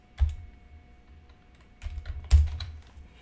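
A few scattered keystrokes on a computer keyboard typing a search, quiet clicks in short bursts with pauses between them, no talking.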